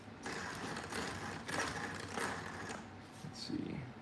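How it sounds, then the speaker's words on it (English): Motor and gear mesh of a Traxxas Sledge RC truck produce a ratcheting mechanical whir in uneven bursts, fairly quiet, with a person talking over parts of it. "it actually sounds like a pretty decent meshing that it has right now"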